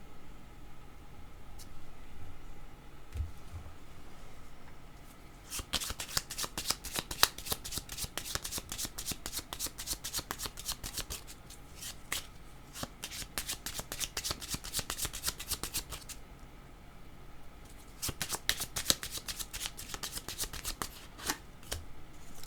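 Tarot cards shuffled by hand in rapid riffling bursts, a quiet start followed by two long stretches of dense flicking and rubbing, soft and close, no speech.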